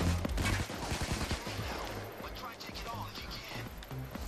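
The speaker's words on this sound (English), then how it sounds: "I'm being shot." Rapid gunfire in the heist shooter PayDay 2, a dense burst of overlapping shots and impacts that is loudest at the start and stays busy throughout, with talk and game noise mixed in.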